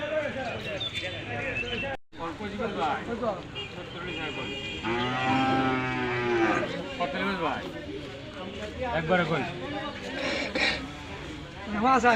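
Cattle lowing at a sparse cattle market, one drawn-out moo rising in the middle while someone talks almost throughout and market noise carries on behind.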